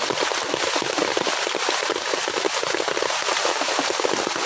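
Heavy rain pours steadily during solo mud crab hunting, a dense, constant hiss of drops beating on surfaces close by, loud and unbroken throughout with no talking.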